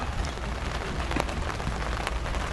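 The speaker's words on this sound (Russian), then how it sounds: "Дождик идет." Steady rain falling at night on a street near a town hall stage and a small fountain in Alanya, Turkey, heard as a continuous close hiss of drops with no talk.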